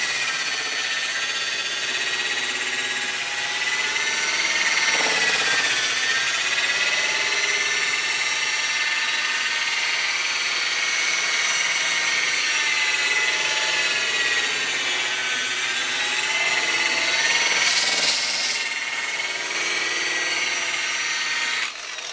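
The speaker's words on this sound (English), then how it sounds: "the longer you buff," A power buffer polishes a headlight lens with Mothers PowerPlastics restorer, a steady high-pitched whine running continuously with brief louder surges, close and alone without talk.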